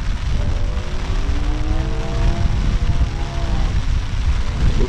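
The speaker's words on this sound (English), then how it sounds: "Raining now, guys." Rain and gusting wind sweep across dirty water where whitebait shoal, making a loud, continuous rushing roar with heavy low rumble, a faint tonal drone wavering through the middle and no voices.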